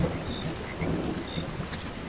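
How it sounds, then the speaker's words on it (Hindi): A storm with thunder and rain: a loud, continuous roar of rainfall and rumbling thunder, close and filling the whole moment, with no voices. "बिजली चमक रही थी और बादल गरज रहे थे।"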